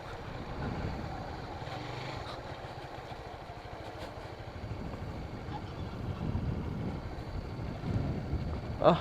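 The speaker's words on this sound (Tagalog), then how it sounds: "Dunggan yung hangin guys" Strong wind buffets and roars against the microphone throughout, with a low engine rumble underneath, on the road between Guiasan and Magallanes, Philippines.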